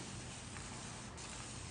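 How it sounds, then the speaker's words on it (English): Water from a spray bottle misted onto the top of a wig, a steady close hiss that fills the short moment without pause. "I'm just spraying some water"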